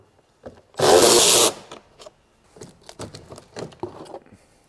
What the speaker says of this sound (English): Let's remove this heat shield.